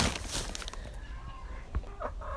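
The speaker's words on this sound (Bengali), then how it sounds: "তো চলে আসলাম মুরগির কাছে" Laying hens on layer feed cluck and scratch at feeding time, soft scattered calls and rustling close by in a quiet farm setting.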